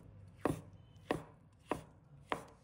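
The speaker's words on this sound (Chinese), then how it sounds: "然后将香菇改刀切成厚片" Shiitake mushrooms are cut into thick slices on a board, each knife stroke landing as a quiet, crisp thud in a steady rhythm of four cuts about six tenths of a second apart, with no talking.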